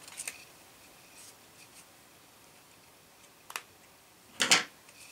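A few quiet snips of scissors trimming a piece of lace, sparse and close, with one sharper cut near the end against a near-silent background.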